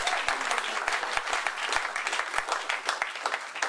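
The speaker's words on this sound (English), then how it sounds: "May we give him a round of applause." An audience at a university students' association event breaks into a round of applause, dense rapid clapping that stays loud and steady from start to finish.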